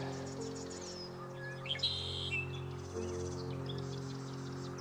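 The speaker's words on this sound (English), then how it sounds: "Lots of bird sound here." Several birds, including a red-winged blackbird, chirp and whistle in short bursts at a bog over a steady low hum, with a trilling call or two standing out.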